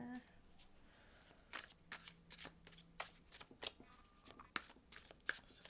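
Tarot cards being shuffled in quick riffling bursts and soft slaps, close up, with a quiet voice murmuring underneath.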